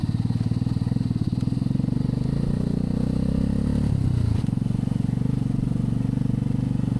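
A motorcycle rumbles steadily over a sandy, rough trail near Lake Mapanuepe, its engine droning close with a slight swell partway through and rattling, scraping noise from the terrain underneath.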